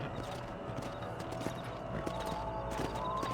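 Horse hooves clip-clopping at a steady trot in Red Dead Redemption at night, a continuous rhythmic patter under game ambience with faint background voices.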